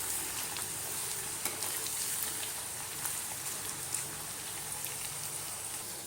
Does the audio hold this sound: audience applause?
no